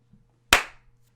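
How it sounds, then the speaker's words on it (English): A single sharp hand clap, close and crisp, with a short decaying tail in an otherwise quiet room. "Everyone in the chat, give one clap."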